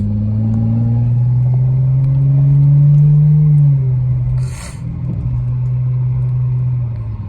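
A Dodge Challenger rumbling through city streets at night, a loud low engine drone that swells, eases off briefly with a short hiss, then settles back into a steady hum, with no talk.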